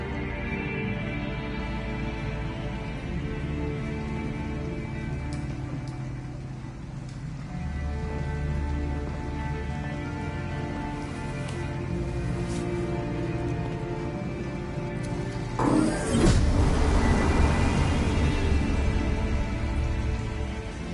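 Heavy rain pours steadily in Detroit: Become Human, a constant hiss on surfaces, with a thick low rumble like a passing vehicle swelling near the end.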